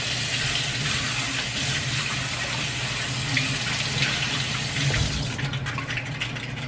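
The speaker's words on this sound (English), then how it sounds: "just give it a quick rinse" Asparagus rinsed under a running kitchen tap, a steady, close rush of water splashing without pause, with no voices.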